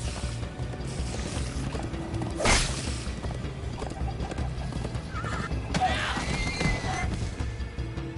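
Horses in Minecraft: Story Mode neigh and whinny over a busy bed of hoofbeats and clatter, with a sharp burst in the middle and more calls near the end.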